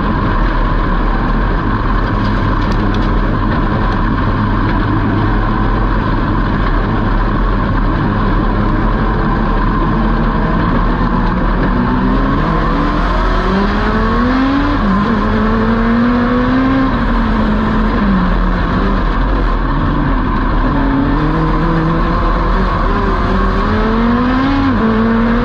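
Dwarf car racing engines roar through a heat race, a steady pack of cars droning loud and continuous with rising and falling revs as they pass and accelerate, no voices over the engines.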